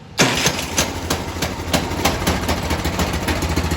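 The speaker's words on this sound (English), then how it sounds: "So I'm going to fire this up just for you, so you guys can see how it works with the starter." A Craftsman 30-inch snow thrower engine fires up on its electric starter, then settles into a loud, close, rapidly pulsing running putter with no talk.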